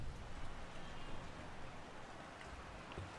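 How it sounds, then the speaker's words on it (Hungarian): Heavy rain pours over the Shanghai circuit in the F1 2013 racing game, a steady, even hiss of falling water that holds at low volume throughout with no voices. "Szakad az eső."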